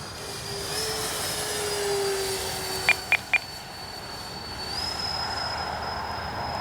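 A Dynam Me 262 V3 RC model jet flying: a steady, high electric ducted-fan whine that shifts in pitch as it passes at a distance, with a few brief beeps partway through and wind noise underneath.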